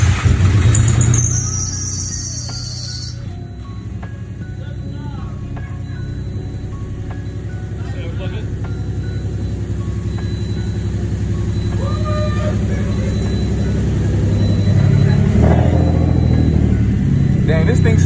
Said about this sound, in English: This thing sounds like a VQ now.